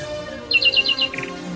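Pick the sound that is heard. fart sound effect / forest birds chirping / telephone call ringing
forest birds chirping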